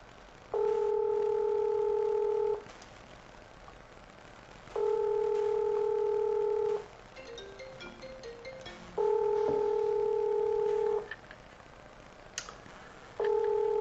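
An outgoing telephone call rings back with four long, steady tones, each about two seconds, separated by pauses. Faint, brief keypad beeps sound between them.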